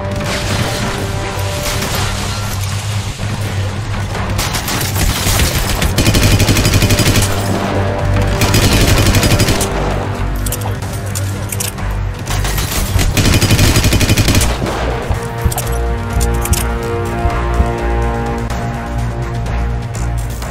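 Bursts of automatic gunfire and heavy booms from a shootout in the video game Hitman Absolution, set in a chaotic city street, layered over a loud, dense soundtrack that swells and recedes throughout.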